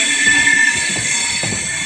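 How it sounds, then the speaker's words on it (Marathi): The Diva–Sawantwadi passenger train runs near Khed with a continuous loud rumble and a sustained high metallic whine. No one speaks. "आपली दिवा सावंतवाडी ट्रेन आली आत्ता बरोबर खेडला"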